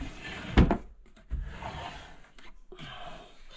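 A repaired wooden dresser drawer slid and bumped shut, with a sharp knock followed by a second thud and some scraping, close by in a quiet room.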